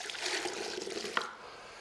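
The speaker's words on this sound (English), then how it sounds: "We're going to add some water to the machine." Water poured into an airless paint sprayer machine to flush it out, a close, steady trickling splash lasting about a second before stopping.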